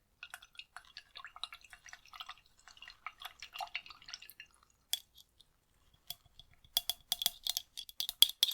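A paintbrush is dabbed in water at close range, giving a run of tiny crisp drips and clicks that turn sharper and denser near the end.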